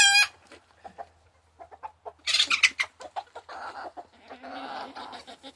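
Chickens and roosters cluck close by in a farmyard, giving short bursts of loud, squawking calls between quieter pecking clucks, with no talking.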